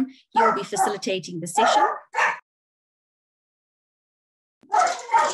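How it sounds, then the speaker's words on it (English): Dogs barking and yipping in a home during a morning online business session, sharp bursts mixed in with a man's speech and then breaking off into silence. "my dogs are busy barking here."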